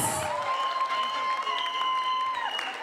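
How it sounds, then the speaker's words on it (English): Sustained audience applause and crowd noise after Eminem's live freestyle, steady and dense through the clip, with a thin whistle-like tone running over it. "I see the claps going on and on"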